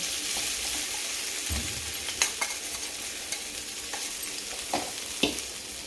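Sago pearls tipped into a frying pan of sautéed chillies and stirred for fasting khichdi: a steady soft sizzle with scattered scraping spoon strokes and small clatters, close and fairly quiet, no voices.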